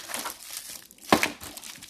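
Crinkling and tearing of plastic wrap while a retro HD console's packaging is opened, close up, with one sharper crackling burst in the middle among lighter rustling.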